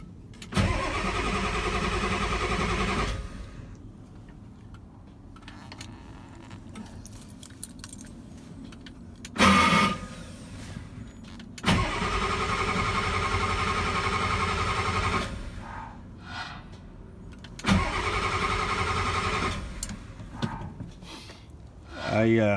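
A 1989 Ford F350 with a 7.3 diesel engine cranks in several long, loud bursts that fail to catch, with pauses and keys jangling between attempts, and brief voices in the gaps.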